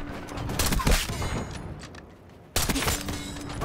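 Sniper-rifle gunfire in the video game Black Ops 6: a loud crack with a ringing tail, then after a quieter stretch a second sharp burst of shots, with ambient game noise between.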